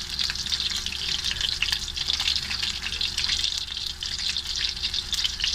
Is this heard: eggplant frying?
yes